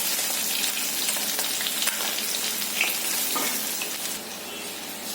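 Pabda fish sizzle and crackle steadily in hot oil in a pan, a continuous fizzing hiss with small pops, close and moderate in level, no voices.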